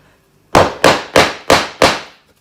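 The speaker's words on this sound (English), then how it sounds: "And then you get your block, and then you get your hammer." A hammer knocks a tapping block against a kitchen flooring plank to fit it, five sharp, close, evenly spaced strikes in quick succession, each ringing briefly.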